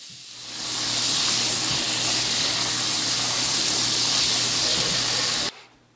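Boiled rotini pasta is drained and rinsed under cool water, giving a steady, loud rushing hiss of running water for about five seconds that then stops abruptly. No one speaks.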